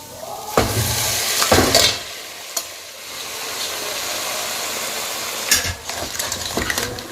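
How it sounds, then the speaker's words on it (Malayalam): Cooked crab tips into a pan and is stirred while frying, with loud close sizzling broken by scraping spoon strokes and clanks against the metal pan. "നമ്മുടെ ചട്ടിയിൽ വേവിച്ച് വെച്ചിരിക്കുന്ന ഞണ്ട് നമുക്കിതിലേക്ക് ഇട്ട് കൊടുക്കാം"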